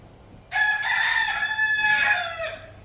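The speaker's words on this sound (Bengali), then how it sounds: "ও ডাকছে ওই সেই সাদা মুরগিটা" A white chicken crows loudly at close range, one sustained, harmonically rich call of about two seconds with a rising start and falling tail, heard alone against faint background.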